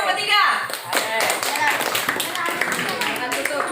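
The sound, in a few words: applause for group 3 in a classroom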